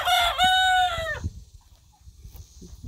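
A rooster crows once, loud and close, then only faint rustling and quiet farmyard background remain.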